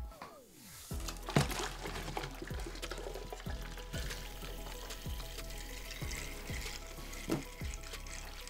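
Soapy water swirls and gurgles in a tornado bottle, close and steady, with a repeating series of glugging pulses after an initial splash.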